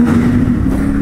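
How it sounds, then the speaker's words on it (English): CFMOTO 450MT motorcycle engine held in a loud, steady rev, close up and alone, a sustained mechanical drone flicking toward redline. "with that rev bomb is the rev RPMs just flicked all the way out to red line"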